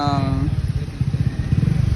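A motorcycle engine catches after an electric self-start and idles with a steady, close, throbbing rumble for a couple of seconds, with a short tone at the very start.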